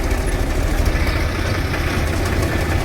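A tractor engine idles close by, a steady low rumbling throb that holds constant throughout without any voices.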